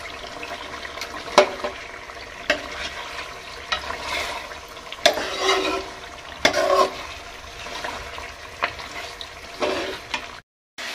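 Whole spices, cinnamon and green cardamom among them, roast in a pan while being stirred: a soft continuous sizzle broken by intermittent scraping and knocking strokes of the spoon, close by and without talk.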